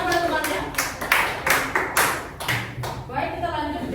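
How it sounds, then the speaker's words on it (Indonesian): Schoolchildren in an Indonesian classroom clap for their classmates, a ragged burst of hand claps with loose rhythm and some thuds, while a voice talks over it. "Beri tepuk tangan pada temannya."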